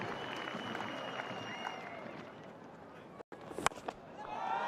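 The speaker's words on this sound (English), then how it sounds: "the Afghanistan team standing up to applaud" Afghanistan cricket team standing to applaud a well-played innings by Askar Stanikzai, heard as a dense, steady wash of clapping and crowd noise at a cricket ground, briefly cut off partway through before resuming.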